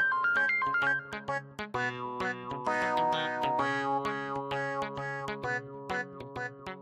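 A phone ringtone plays as a bright, tinkly electronic melody of quick repeated notes and sustained tones, moderately loud and continuing without any talk over it.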